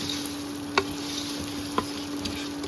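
Broken wheat dalia roasts in a pan, a low steady sizzle with two or three sharp scrapes of the spoon as it is stirred, close and without talk.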